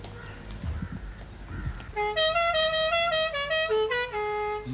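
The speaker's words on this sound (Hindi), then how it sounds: "ये कौन जाहिल है जो इतनी जोर से हॉर्न बजा रहा है?" Car horn blared loudly outside, a run of rapid pitched honks in an uneven rhythm, then a longer blast and more short toots, coming after faint indistinct background noise.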